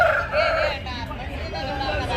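Roosters crow and cluck close by amid a busy rooster market hubbub in Pileru, India, with people talking in the background.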